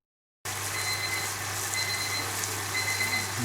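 A kitchen timer beeps faintly in a few brief, evenly spaced bursts over a steady hiss of chicken tikka frying in a pan.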